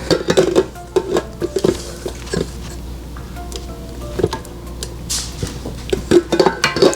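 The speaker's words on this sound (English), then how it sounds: "I'm gonna scrape the sides a little bit before I add the butter." A spatula scraping the sides of a bowl of box cake mix batter, heard as irregular scrapes and light knocks against the bowl, close by, with quieter gaps between strokes.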